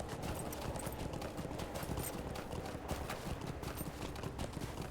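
Horse hooves clip-clop at a steady rhythm during riding through Rohan in a video game, a continuous close trotting pattern at moderate loudness with no talk over it.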